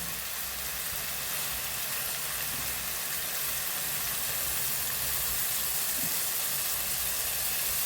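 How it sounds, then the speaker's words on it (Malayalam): Lemon juice is squeezed into a hot pan of Kerala-style chicken, giving a steady, loud, broadband sizzle and hiss that runs without pause and without talk. "ഇത് ഞാൻ ഒരു നാരങ്ങയുടെ നേര് പിഴിഞ്ഞ് ഒഴിക്കുന്നുണ്ട് കേട്ടോ"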